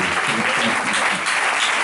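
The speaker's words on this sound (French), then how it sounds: "Est-ce qu'on peut applaudir pour cette date?" A crowd applauds continuously, a dense wash of clapping that stays steady and loud throughout.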